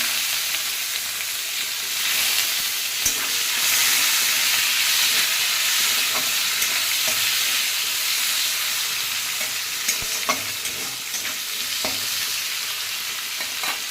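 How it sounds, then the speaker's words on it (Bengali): Sliced onion and whole bay leaves fry in hot oil, a dense continuous sizzle with occasional stirring clicks, close and steady with no talking. "পেঁয়াজটা অল্প ভাজা ভাজা হোক"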